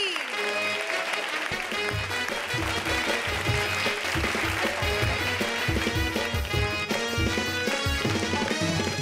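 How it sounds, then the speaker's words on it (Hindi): Loud, dense applause from a live comedy show audience cheering comedian Rajiv Goldie, a continuous close roar of clapping with steady rhythm throughout. "जोरदार तालियां हो जाए फॉर राजीव गोल्डी"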